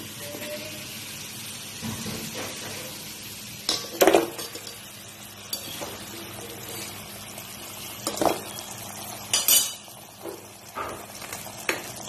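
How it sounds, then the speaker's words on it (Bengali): Fried goja, a sweet dough snack, is turned in hot sugar syrup with a utensil, producing quiet bubbling and scattered clinks and scrapes against the pan at irregular intervals. "রসের মধ্যে একটু নেড়ে চেড়ে নিচ্ছি, তারপর তুলে নেব।"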